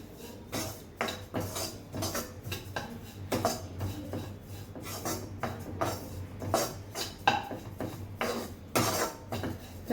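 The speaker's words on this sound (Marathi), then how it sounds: "खोबरं सारखं असं परतत राहायचं, नाही तर त्याचं लालसर होईल." A metal spoon scrapes and clinks against a pan as grated coconut is stirred while roasting, giving irregular close scraping strokes with quiet gaps between them and no talking.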